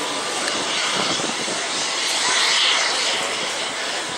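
The jet engines of an Airbus A380 produce a loud, continuous, broadband roar that stays steady and close, with no voices over it.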